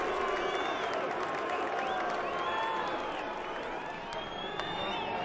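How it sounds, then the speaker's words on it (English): The crowd at the Shannon Briggs vs Siarhei Liakhovich boxing fight makes a continuous, moderately loud roar of displeasure, heard under a commentator's voice. "More displeasure from the crowd."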